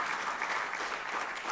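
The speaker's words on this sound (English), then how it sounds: "I think we can give Prof. Chetty another round of applause for his response." An audience at a university inaugural lecture in a Faculty of Education gives a professor another round of applause: steady, dense clapping from a sizable crowd, even in level and continuing throughout the short stretch.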